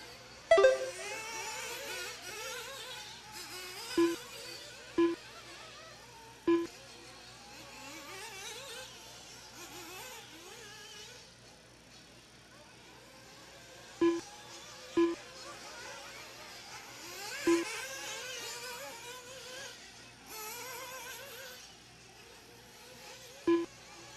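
Nitro-powered RC buggies in a Pro Nitro Buggy race at an outdoor track, their small engines buzzing and whining as they pass, with a steady drone and several sharp louder passes. An announcer talks over the action.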